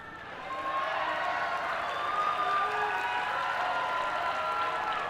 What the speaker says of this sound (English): The parents are the ones clapping for that